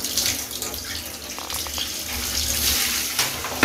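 Water runs steadily from a tap, a continuous splashing hiss close by with no voices.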